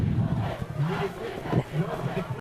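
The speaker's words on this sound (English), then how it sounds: "we hear the Bradley Central student section with their "I Believe That We Will Win" cheer" Student section of Bradley Central fans at a high school football game against Walker Valley chants a cheer together at halftime, a loud rhythmic crowd of voices filling the stands.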